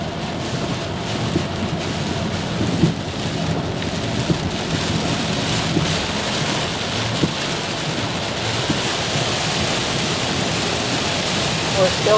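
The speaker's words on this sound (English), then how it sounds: "the rain hasn't let up hardly any" Steady heavy rain drums on a car on the interstate with a constant hiss, close and loud, continuing without pause for the whole stretch.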